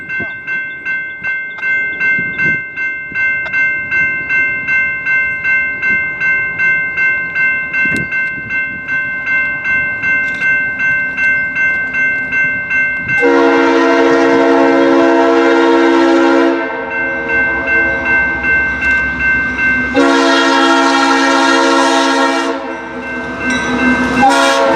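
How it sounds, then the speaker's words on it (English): A BNSF freight train rolls past on the River line beside the Mississippi, wheels beating in a steady clatter, then its horn blasts loud and close in two long sustained blows. "a train on the BNSF River line which runs on the Missouri side of the Mississippi River"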